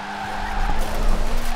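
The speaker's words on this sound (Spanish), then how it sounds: "mi idea era venir derrapando, derrapar aquí, ¿veis?" A 1968 Abarth 595 tuned to 667 hp skids while drifting in Forza Horizon 4, a loud sustained tire squeal over a droning engine tone lasting the whole short moment.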